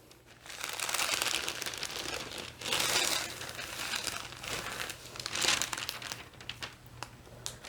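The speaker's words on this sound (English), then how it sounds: "So I want to get this parchment paper." Parchment paper crinkles and rustles as it is handled in a sewing or pressing setup, coming in several close, bursty waves of crackling over about eight seconds, with a faint low hum beneath.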